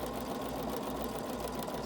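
A sewing machine runs steadily, stitching fabric onto a paper-pieced quilt foundation along a marked line, with a continuous close mechanical hum and no speech.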